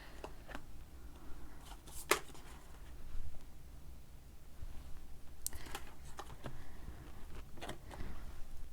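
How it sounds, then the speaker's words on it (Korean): Oracle and tarot cards are handled and flipped over a quiet background, making soft slaps, riffles and brief flicks scattered through the passage, fairly faint and close. "미리 뽑아둔 오라클 카드 한 장씩 뒤집고 또 추가 카드 뽑아보면서"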